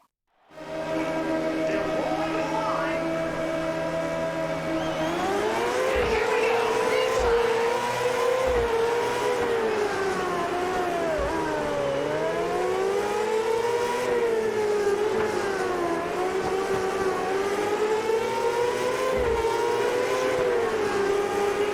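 A micro sprint race car engine in the World of Outlaws Dirt Racing 24 video game drones loudly and continuously, its pitch rising and falling with throttle through corners.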